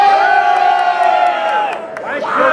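Spectators at national airsoft festival finals cheer loudly for a team, a sustained roar of shouting voices that dips briefly and then swells again with whoops.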